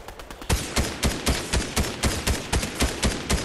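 Gunfire in the video game Fortnite: a run of about fourteen sharp, loud shots in a steady rhythm, each roughly a quarter second apart, with quieter rapid shots just before.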